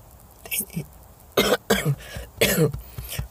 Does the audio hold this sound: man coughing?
yes